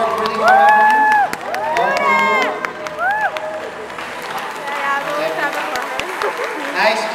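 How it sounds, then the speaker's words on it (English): A high school fashion club show audience applauds and cheers for student designers and models, with sustained clapping, high whoops and shouts from the crowd, and voices calling out over the noise. "One more time for another applause, please."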